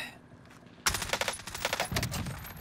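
Gunfire from a Warzone match erupts suddenly after a short quiet lead-in, a loud, rapid burst of repeated shots that continues to the end.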